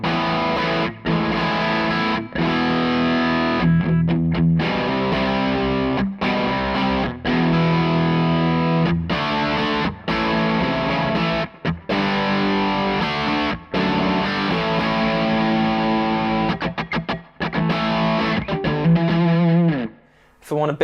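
An electric guitar runs through a Mi Sneaks X overdrive pedal on a pedalboard, playing gritty distorted chords and single-note phrases with frequent short stops, loud and close.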